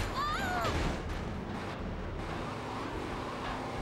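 Gunfire and booming impacts in GTA Vice City Stories on PS2 start with a loud burst and a whistling tone, then continue as a lower, rumbling stretch of game noise.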